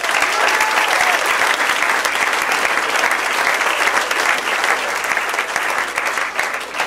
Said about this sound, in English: Brian Kiley, nice round of applause for Brian